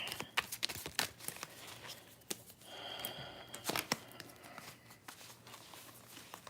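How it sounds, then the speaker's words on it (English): Quiet riffling and soft slaps of a tarot card deck being shuffled, in irregular bursts over faint room noise. "Some shuffles in this deck here."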